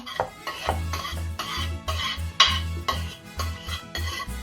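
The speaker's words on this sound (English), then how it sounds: "we're gonna incorporate all of the remaining ingredients and mix very well" A spoon mixes shrimp ceviche with tomato, onion and chile in a bowl, giving rhythmic wet stirring strokes and repeated clinks against the dish, close and steady throughout; no talking.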